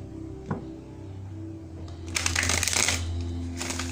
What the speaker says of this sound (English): I'm gonna pull some cards on that.